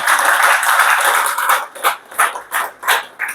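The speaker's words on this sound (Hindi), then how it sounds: "इन सब के लिए एक जोरदार ताली होना चाहिए।" An audience applauding at a business event: loud, dense clapping that thins out into a few separate claps near the end.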